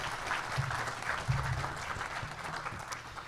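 Audience applause fills a recognition ceremony held by a hospital's internal medicine department at Charleston Area Medical Center, a steady, even wash of many hands clapping throughout, close and moderately loud with no voices over it.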